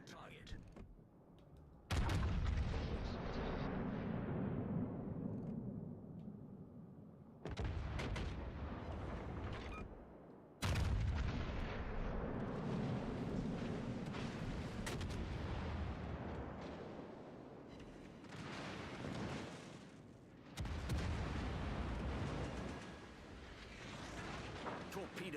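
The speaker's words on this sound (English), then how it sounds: "All stations. Concentrate fire on that target." Naval guns fire in the World of Warships Legends video game: several heavy booming salvos, each followed by a long rumbling decay, loud and close, with voices in between.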